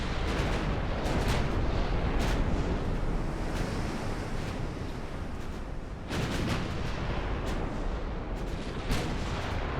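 Battleship guns fire in Ultimate Admiral: Dreadnoughts: dense, rumbling broadband blasts with repeated sharp booms layered over a constant roar like surf and wind, loud throughout.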